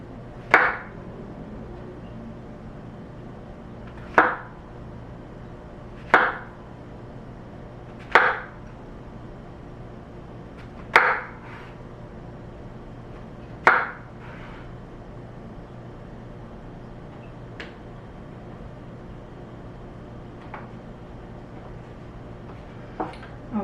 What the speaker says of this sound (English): Cut it into slices.